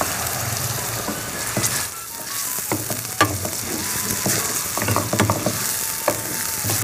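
Ginger garlic paste, onion paste and tomato paste cook in oil, a loud, continuous sizzle close up with clattering stirring strokes that come in bursts, pausing briefly in the middle.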